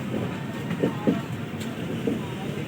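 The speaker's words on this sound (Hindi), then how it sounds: "हमारी ट्रेन निकल चुकी है प्लेटफॉर्म नंबर 1 से जंगई जंक्शन से" Passenger train running on rails after leaving a junction platform in heavy rain, a steady rumbling roll with a few soft wheel clacks.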